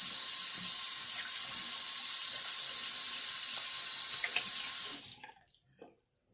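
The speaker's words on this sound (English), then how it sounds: "Let me rinse off." A tap runs steadily for rinsing off after a shave with a Feather SS razor. Loud, continuous water flows for about five seconds, then shuts off, leaving a few faint drips.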